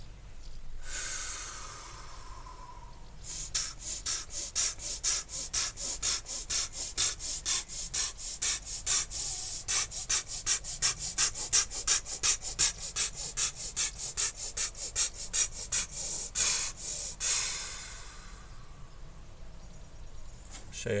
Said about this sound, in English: Use the breath like a pump to draw the energy out and expel it.